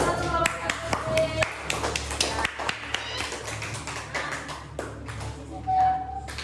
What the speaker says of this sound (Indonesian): kita berikan satu tepuk tangan